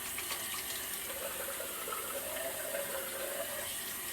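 Tap water runs steadily over a shaving razor as it is rinsed, a continuous, moderately close splashing stream with no talking.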